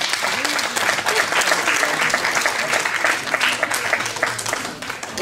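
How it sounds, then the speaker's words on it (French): Audience applause welcoming a singer on stage at a Cévennes Caravanes evening show, dense sustained clapping from a crowd filling the room throughout, easing off slightly at the end. "sous vos applaudissements"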